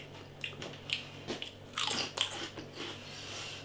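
Thin salt and vinegar pork rind puffs crunch loudly and close in several crisp bites, with chewing crackles in between and no talk.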